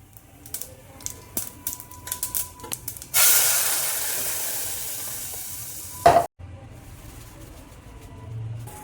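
Hot oil tempering for a Goan mackerel curry bursts into a loud, steady sizzle after a few light stirring taps, hissing for several seconds before cutting off abruptly, then faint cooking sounds resume.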